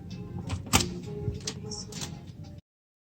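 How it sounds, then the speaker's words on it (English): Keyless cabin door on a Medallion-class Princess cruise ship unlocking by itself: a short run of soft clicks and mechanical ticks with one sharper latch snap, close by, ending abruptly in silence. "it recognizes that I'm nearby, and it unlocks the door"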